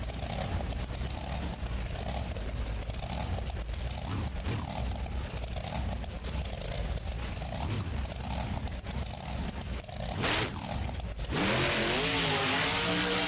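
A monster truck engine in BeamNG Monster Jam, Black Stallion versus El Toro Loco, revs hard and steadily during a power wheelie, a loud sustained roar that swells, then drops into rising gear-like whines near the end.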